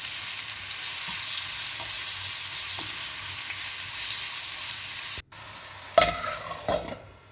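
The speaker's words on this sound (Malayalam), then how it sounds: "ചൂടായ എണ്ണ കിടന്ന് അത് ഇച്ചിരി ഒന്ന് നന്നായിട്ട് മുരിയേണ്ട ആവശ്യമില്ല, ഇച്ചിരി ഒന്ന് മുരിയണം." Garlic chicken frying in hot oil, giving a steady, even sizzle, then a brief gap followed by a few louder stirring scrapes and clatters of a spoon in the pan, with no talking.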